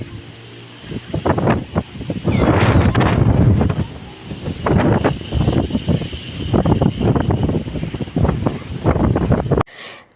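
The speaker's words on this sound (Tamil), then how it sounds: "இது பாரு, அம்மாவை தள்ளுது காத்து." Strong storm gusts of wind buffet the microphone in loud, rough bursts, rising and falling over several seconds before cutting off abruptly, during Cyclone Fengal.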